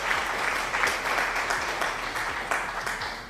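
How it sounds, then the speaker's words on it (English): A triggered applause sound effect plays during a livestream, a dense burst of many hands clapping that is steady and fairly loud for several seconds. "We also quickly trigger some applause."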